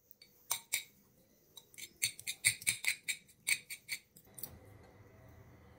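A metal fork clicks and scrapes against a plate while shredding boiled chicken, a run of sharp close metallic taps in uneven rhythm, ending in a softer rustle.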